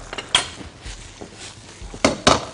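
Stir-fried Korat rice noodles are scooped from a pan onto a plate, with a few sharp clanks of a utensil on metal and ceramic between quieter scraping, close by and without speech.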